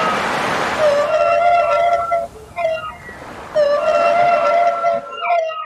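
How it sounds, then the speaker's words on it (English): Long, drawn-out tonal calls of a whale, rising and sliding moans with bright harmonics, repeating twice with a short gap between, fairly loud and clear against a soft watery background hiss. "W-H-A-L-E, whale."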